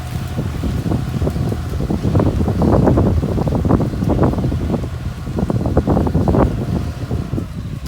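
A 40-horsepower, non-turbo John Deere 5040D tractor diesel engine runs loudly nearby with a rough, pulsing low rumble, its chugging rising and falling amid wind buffeting the microphone.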